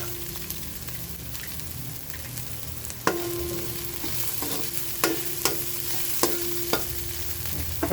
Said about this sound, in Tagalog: lalagay ko na ang sahog, yung pork